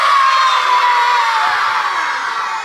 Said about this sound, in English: Give me a big yell.